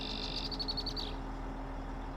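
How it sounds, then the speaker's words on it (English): Birds chirping in a farming video game's Skull Crush Mountain logging map: one brief, quick trill of high chirps rises over a steady low drone and then fades. "Birds and stuff."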